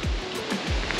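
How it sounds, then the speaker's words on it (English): A waterfall on the trek to Machu Picchu gives a steady broadband rush of falling water, moderately loud and continuous, with a few low thuds from nearby movement. "definitely there's a waterfall because we can hear it"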